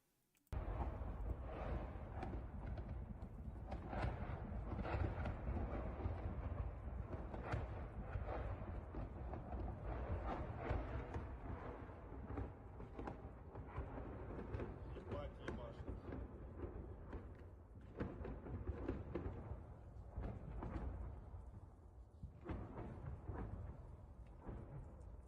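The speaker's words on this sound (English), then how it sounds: "I'll show you all the other video I have of explosions in Severodonetsk. It's rather severe sounding, but I'll just let y'all listen." Wartime explosions in Severodonetsk rumble as a dense, continuous low roar with deep booms rising and falling, distant and heavy, with no voices over it.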